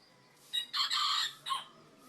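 A bird crows nearby in a single short, harmonic call broken into a few bursts, fairly faint against a quiet background.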